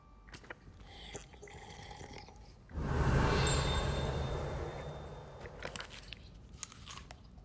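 In Hogwarts Legacy, a character eats a treat, a burst of loud crunching and chewing that rises suddenly and fades over a few seconds, framed by quieter game ambience and brief clicks before and after.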